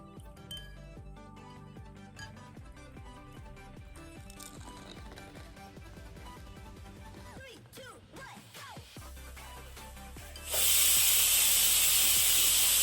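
Light clinks and kitchen clatter give way to a sudden loud, sustained hiss as a pressure cooker vents steam.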